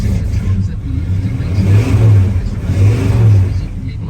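A 1976 Ford F150 V8 with headers and dual exhaust revs in two rising swells, a deep, throaty rumble that climbs and falls back to idle, loud and close.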